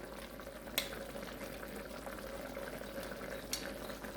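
A cornstarch-and-water slurry is stirred into black bean sauce in a pan for spareribs, a soft, quiet simmer with a couple of sharp utensil clicks against the pan.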